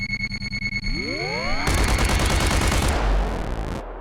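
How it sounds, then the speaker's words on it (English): Synthetic machine gun burst built in the Krotos Weaponiser plugin: a rapid stuttering run of loud shots that swells into a dense continuous roar, then cuts off abruptly. "So I can do that sort of thing where I can make things sound more like a machine gun"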